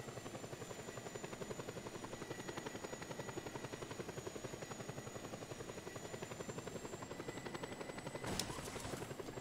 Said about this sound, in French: Bah, je sais garer un hélico, moi.